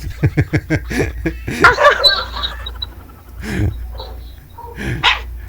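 A voice imitating a dog barks in a quick run of short yaps, then a few more scattered barks between pauses; close and loud.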